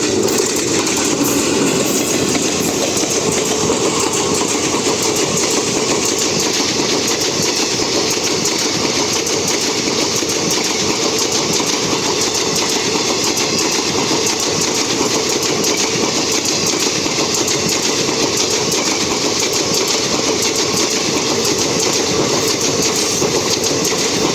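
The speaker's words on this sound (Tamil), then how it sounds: "அப்படியே ஆப்போசிட்டில் பார்த்தீங்கன்னா Kollam to Hyderabad weekly special போகுது" The Kollam to Hyderabad weekly special express train rolls past nearby, its steady rumbling roar and rhythmic clatter of wheels on rails continuing loudly without a break.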